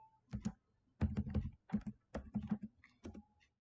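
Someone types a short command on a computer keyboard in a quiet room: close, crisp key clicks in several quick bursts separated by brief pauses, with no talking.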